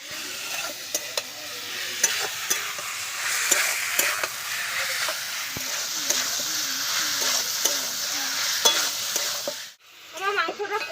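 Meat being stir-fried with spices in a pan, village-style Bengali cooking: steady close sizzling and frying with repeated scraping and stirring clicks, while a faint voice is heard in the background and the sound drops away briefly near the end.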